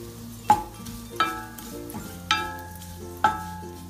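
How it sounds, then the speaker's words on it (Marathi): Coconut roasts in a ladle of hot oil in a pan under a low sizzle, broken by four ringing metallic strikes of a spatula against the pan spaced about a second apart, close and without voices. "आता आपण एक खोबरं त्याच्यामध्ये भाजून घेऊ."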